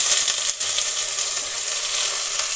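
Chopped brinjal for a palya fries in hot oil, giving a steady, loud, even sizzle with a brief dip near the start and no voices.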